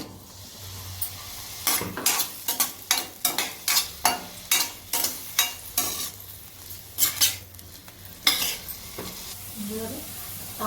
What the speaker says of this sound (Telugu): దానికోసం వెజిటేబుల్స్ వేయించుకుంటున్నాను